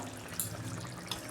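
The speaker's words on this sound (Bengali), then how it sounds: "দেখুন বন্ধুরা, মাছ হয়ে গেছে, আমি ঢেলে ফেলছি।" Cooked katla fish curry poured out of a pan, a steady liquid splashing and trickling with a couple of brief louder splats, close and alone without talk.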